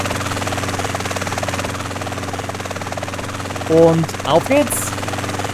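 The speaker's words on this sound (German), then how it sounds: "nehmen wir uns doch den Helikopter" Helicopter in the video game GTA San Andreas, a steady rotor and engine drone throughout with a few short synthetic tones near the end, while someone speaks briefly over it.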